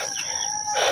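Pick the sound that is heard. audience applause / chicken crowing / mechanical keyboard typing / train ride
chicken crowing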